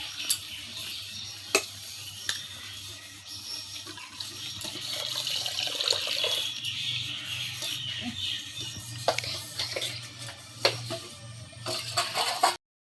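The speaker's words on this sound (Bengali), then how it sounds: "এখন এই যে জল ছানাছানি করতেছে।" A child splashes and plays in water, with irregular sloshing and dripping, occasional sharp splashes, and a steady watery wash running throughout at close range.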